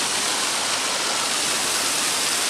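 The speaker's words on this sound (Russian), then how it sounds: "И сразу встречает нас фонтан." A fountain in Strukovsky Garden park in Samara splashes in a dense, steady rush of falling water, loud and close with no talk.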